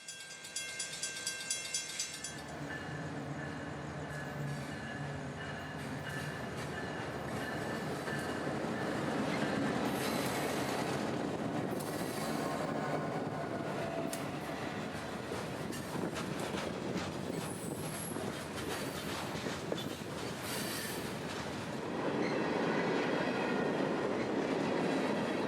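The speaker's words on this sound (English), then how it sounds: "L754, rolling through and preparing to stop around the corner in order to switch Conrad Yelvington's distribution yard here." A freight train, L754, rolls through on the S-Line as it prepares to stop and switch Conrad Yelvington's distribution yard. Steady, loud rumble with wheel squeal and clickety-clack runs throughout, with no voices.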